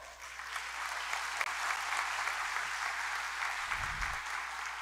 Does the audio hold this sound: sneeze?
no